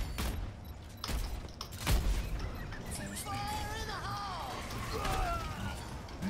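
Hammond's guns firing in Overwatch, a rapid series of sharp shots and impacts across the clip, layered with game effects and tonal chirps, with speech-like sounds underneath.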